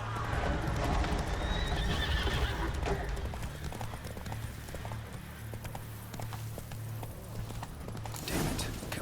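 Roach, the horse in The Witcher 3, gallops with rapid, continuous clip-clopping hooves and lets out a loud neigh near the end, set against a dense game soundscape.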